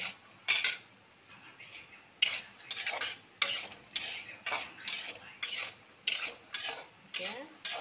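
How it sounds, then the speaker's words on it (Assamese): Peanuts fry in a dry pan while a metal spoon stirs them, giving rhythmic scraping and clinking strokes about every half second, close and crisp with faint rattling of the nuts between strokes. "মই ভাজি আছোঁ"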